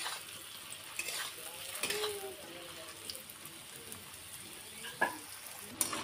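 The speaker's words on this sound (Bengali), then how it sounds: "ভালো করে উল্টিয়ে পাল্টিয়ে ভেজে নেব।" Food fries in a pan with a constant close sizzle while it is turned over, broken by a few sharp spatula scrapes and clicks against the pan.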